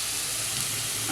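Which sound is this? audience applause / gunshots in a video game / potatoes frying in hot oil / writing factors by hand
potatoes frying in hot oil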